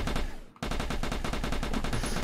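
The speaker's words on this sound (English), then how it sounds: "The guns are using line traces, so these are hit scan guns." Rapid hitscan gunfire from a first-person shooter game, a dense stream of loud, overlapping shots with a brief gap early on, then continuous firing throughout.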